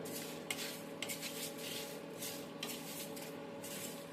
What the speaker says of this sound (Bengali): এটা একটু নাড়াচাড়া করে নেব।